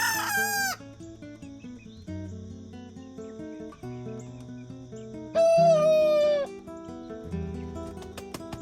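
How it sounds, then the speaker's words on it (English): A booted bantam rooster crows twice in a backyard flock, high, wavering calls standing out over a musical background with sustained tones throughout. "I finally caught this booted bantam on camera crowing"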